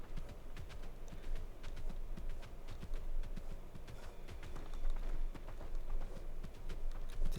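Horse hooves clip-clopping in the video game Palia, a steady rapid patter of hoofbeats running continuously at moderate level through the whole stretch.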